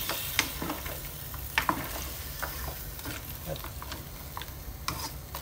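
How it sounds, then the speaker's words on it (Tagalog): Pork adobo with Sprite is stirred in a pan, with irregular scraping and clacks of a utensil over a low, steady sizzle. The sound is close and moderately quiet, and no one speaks. "At haluin natin ulit."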